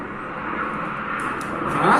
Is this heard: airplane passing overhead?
yes